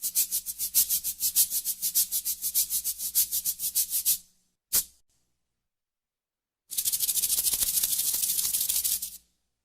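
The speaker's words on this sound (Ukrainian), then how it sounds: "маракаси" Maracas are shaken in a fast, even rhythm of about twenty sharp rattling pulses, then a single short shake, a pause, and a sustained continuous rattle lasting over two seconds, close and bright with no voices.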